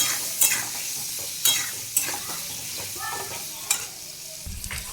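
Potatoes frying with turmeric and salt are stirred in a pan, a constant close sizzle punctuated by a few sharp scraping strokes of the spatula, with no voices.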